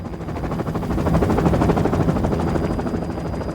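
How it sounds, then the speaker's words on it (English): Helicopter filmed during a wolf capture operation in Canada for reintroduction to the U.S., a steady loud rotor thump and engine roar throughout, with no voices. "That's the sound of a helicopter from a home movie of the effort to capture wolves for reintroduction to the U.S."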